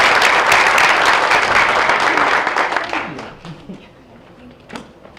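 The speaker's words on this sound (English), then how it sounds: "So if we can give them a round of applause." Applause from an audience at a school board of education meeting, a dense burst of clapping that tapers off after about three seconds, leaving faint scattered claps and room noise.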